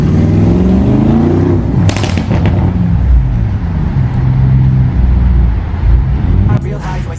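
Tuned V8 exhaust of a Lamborghini Urus S under way, a loud continuous engine drone with rising revs throughout and a couple of sharper bursts, heard from close by with music over it.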